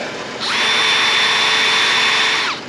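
A cordless drill fitted with a DeWalt XR battery spins up quickly, holds a loud, steady high whine for about two seconds, then winds down, with no talking.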